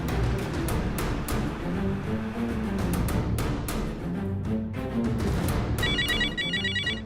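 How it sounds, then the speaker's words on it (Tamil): A telephone rings in a Tamil TV serial scene, a repeating electronic ringtone heard from about six seconds on over a dense, steady bed of background music, with no talk. "ஃபோன் அடிக்குது."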